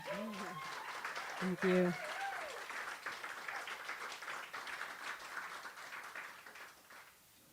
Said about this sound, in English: Can we have one more round of applause for that beautiful original song?